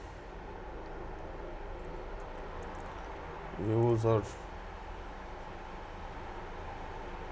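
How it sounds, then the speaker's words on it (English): A helicopter passes overhead as a steady low mechanical drone that persists throughout, heard faintly beneath a brief spoken voice. "sorry, there is a helicopter."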